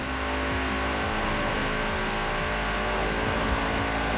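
An Audi RS6 police car in Forza Horizon 4 drives at speed, its engine a loud, continuous roar with shifting revs, the sound steady and close throughout.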